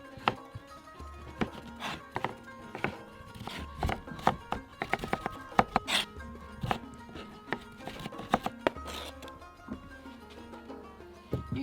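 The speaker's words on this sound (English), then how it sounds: "The tomato, you don't have to cut it very thin, medium size like this" A knife chops medium-thick slices of tomato on a cutting board for tabouli, giving irregular, fairly quiet wooden knocks spread over several seconds.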